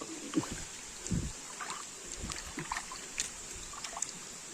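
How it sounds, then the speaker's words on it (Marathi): Spring water runs through a forest stream, freshly cleared of fallen leaf litter, making a steady broadband rush with a few soft low splashes and gurgles scattered through it, close by and moderately loud. "खाली पाणी फास्ट जाईल पाण्याचा फ्लो वाढेल"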